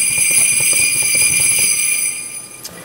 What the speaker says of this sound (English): sleigh bells.